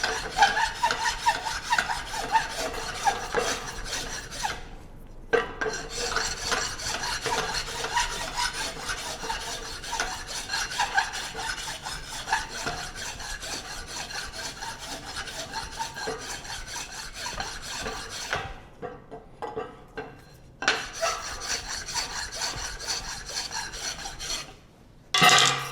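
A rasp works a wooden handle for a forged hammer with continuous close scraping strokes that pause briefly twice, steady and fairly quiet.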